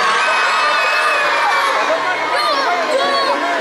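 A crowd of children shouts loudly and eagerly at a zoo show, volunteering to feed penguins, with overlapping high-pitched cries and cheers continuing throughout.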